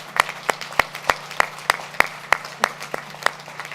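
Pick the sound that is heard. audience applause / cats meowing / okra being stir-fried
audience applause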